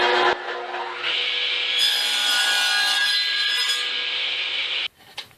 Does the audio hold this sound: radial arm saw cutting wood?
yes